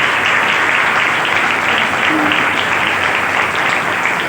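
Steady, dense audience applause filling a church service, continuous and even from start to finish with no voices standing out.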